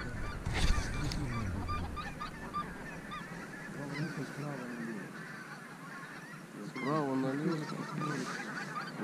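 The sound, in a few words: geese honking during a goose hunt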